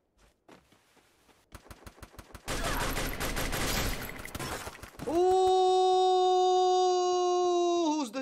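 Heavy gun bursts in the Free Fire battle royale game: a sparse run of single shots gives way to a dense, loud stretch of rapid fire, ending in a sustained tonal electronic hum.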